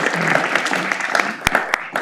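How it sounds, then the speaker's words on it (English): An audience at a city council meeting applauds to honour a woman named Amanda, the clapping dense and near with a few sharp individual claps standing out and some voices mixed in. "Let's give Amanda a big round of applause"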